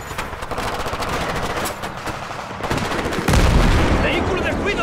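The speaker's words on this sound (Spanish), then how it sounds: "¡Disparos de la izquierda!" Dense automatic and rifle gunfire crackles nonstop during an ambush in the video game Battlefield 3, with rapid overlapping bursts that surge louder near the end.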